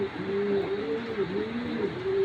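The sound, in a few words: male pigeons cooing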